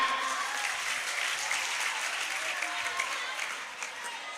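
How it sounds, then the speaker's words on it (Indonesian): Audience applause at an evening religious study gathering in an Islamic boarding school, steady dense clapping for about four seconds, fairly faint and distant, tapering slightly toward the end. "Tepuk tangan."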